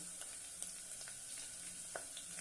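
Green chillies, bay leaves and cinnamon pieces sauté in hot oil for a sprouted moth bean pulao. A soft, steady sizzle runs throughout, with faint clicks of stirring, heard quietly and with no talk.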